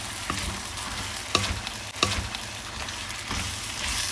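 Pancit noodles with vegetables and peanuts stir-fried in a pan: a steady sizzling hiss with a few sharp scrapes and clacks of the utensil against the pan as the food is tossed, with no talking.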